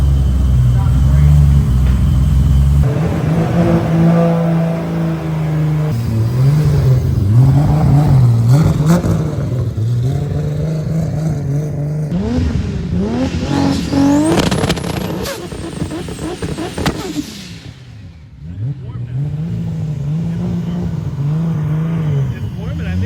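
A Rat Rod Toyota Supra engine runs close by with several rising revs and falling returns to a lumpy idle, while people talk over it.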